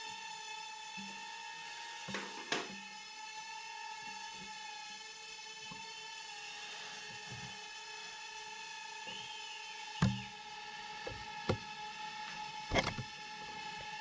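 A tiny mini spy drone hovering, its rotors giving a steady high-pitched whine with harmonic tones, close to the mic, broken by a few sharp clicks and knocks.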